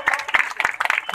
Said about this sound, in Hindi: जोरदार से तालियों से स्वागत दोस्तों